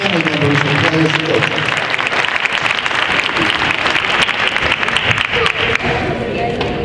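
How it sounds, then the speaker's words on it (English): Loud, sustained audience applause at a girls' team community celebration honoring players' families, dense claps with crowd voices mixed in. "Let's give them a round of applause for all of the support throughout the season."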